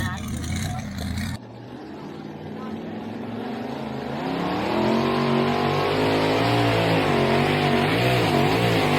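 A pulling truck's engine grumbles and revs at a truck pull event, a loud, rough, continuous roar that rises and wavers in pitch, with crowd voices and talk mixed in.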